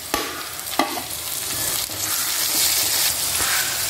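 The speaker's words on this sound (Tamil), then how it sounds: "வெங்காயம் பச்சை மிளகாய்லாம் இப்போ வந்து நம்ம இந்த தக்காளியை போடுறோம்" Tomatoes tipped into a pan of frying onions and green chillies for chapati kuruma, a close, steady sizzle with sharp spatters at the start and stirring scrapes throughout, no talking.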